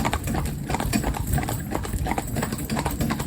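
A big, heavy-boned horse's hooves clip-clop on the ground while driving, a steady, fairly close rhythm of hoof strikes continuing without talk.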